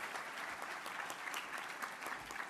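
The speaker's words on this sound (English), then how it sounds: "Give him a big round of applause" Applause at an evening veterans' awards ceremony honoring American heroes, steady and fairly faint, like a distant crowd clapping without pause.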